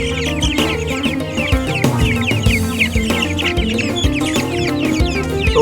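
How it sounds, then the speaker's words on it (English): Young chicks cluck and peep continuously as they are placed one or two at a time into a chicken tractor, with a steady, busy layer of close fowl calls throughout. "Now let's start by introducing the chicks one by one or two by two."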